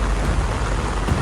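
Heavy rain pours down steadily during an approaching typhoon with a low pressure area, a loud, close, continuous roar of rain over farm plantings with no voices.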